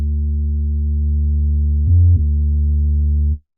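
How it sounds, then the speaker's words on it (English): A distorted bass note in an FL Studio Afrobeats beat holds a steady deep buzzing tone for about three seconds, with a brief pitch shift partway through, then cuts off cleanly. "So for the bass, let's just distort it."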